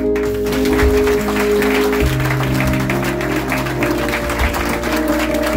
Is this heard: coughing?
no